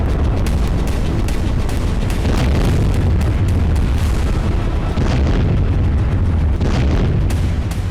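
Dense, continuous rumbling booms and bursts from cluster bomb and drone strikes in a night attack across Russian regions, loud and sustained throughout with repeated low-frequency impacts.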